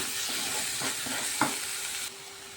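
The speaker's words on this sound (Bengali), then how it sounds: "এই মশলাগুলোকে একটু আমি ভালো করে এখন কষিয়ে নেব" Spices with salt and Kashmiri chili powder are sautéed in a pan for a Bengali potol chingri dorma, giving a steady close sizzle with a few soft stirring scrapes, then easing slightly near the end.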